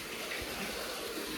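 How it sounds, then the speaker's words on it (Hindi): Water gushes from a farm well during a dry season with low rainfall, a continuous rushing, splashing wash at moderate level with no talk over it. "अभी देख लीजिए कितना पानी आ रहा है इसमें।"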